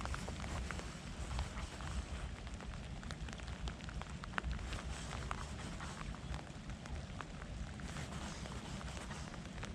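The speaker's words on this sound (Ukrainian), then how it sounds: "подивіться, дощ валить" Heavy rain pours steadily during a fishing trip for pike and zander, a dense, constant hiss of drops hammering surfaces close by, with occasional louder spatters and no talk.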